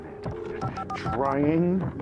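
A telephone in the video game Alan Wake is dialed: a short run of electronic dialing tones plays while a voice talks over them.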